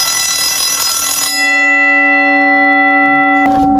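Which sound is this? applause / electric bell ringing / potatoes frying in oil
electric bell ringing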